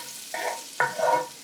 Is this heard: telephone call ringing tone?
no